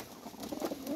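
Pigeons in a breeding loft giving a soft, brief low coo, faint and close, with a light chirp at the end.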